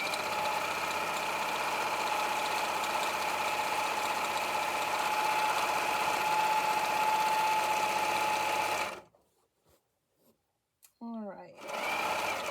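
A sewing machine stitches an apron in a steady, loud, close whirring hum for about nine seconds, then stops, and a brief spoken word follows.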